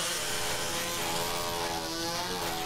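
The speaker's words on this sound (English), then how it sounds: "Welcome to a wood chipper." A wood chipper runs inside the People Playground game, a steady dense mechanical buzz and grinding whir that holds at a constant level for the whole stretch, close and loud with no voices over it.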